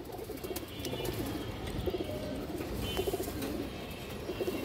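Pigeons at a farm coo repeatedly in soft, rounded calls over a steady background murmur, with occasional chirps mixed in, no one speaking.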